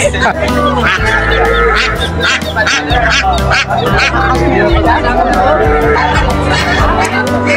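Ducks quack and honk repeatedly amid a busy rural village market crowd near the India border, loud babble of many voices mixing with the birds' calls close by.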